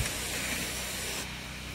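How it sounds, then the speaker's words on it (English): A hose sprays water onto plants in a high tunnel raised bed, giving a steady, broad hiss that holds at an even level close by for under two seconds. "I wouldn't normally be spraying off my plants like this."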